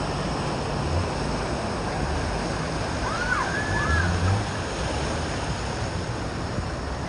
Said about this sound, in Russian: Волну на какой-то черт пустил перед собой.